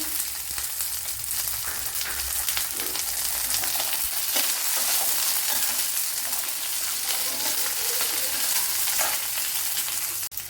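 Shallots dropped into garlic frying in hot oil, a loud, dense, continuous sizzle and crackle with stirring, close and unbroken, with no talk.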